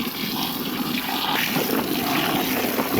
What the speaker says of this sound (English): This time we have the clothes inside, and this is gonna be our rinse cycle.